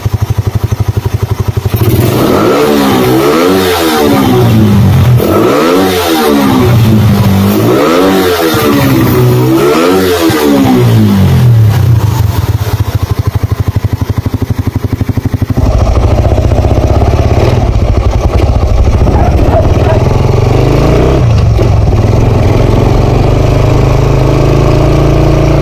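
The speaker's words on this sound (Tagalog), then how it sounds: "So ito na mga idol, tetestingin na natin yung ating motor." Motorcycle fitted with an Uma flatslide carburetor revving loudly up close, four sharp rising-and-falling blips in steady rhythm, then settling into a rough, clattering idle.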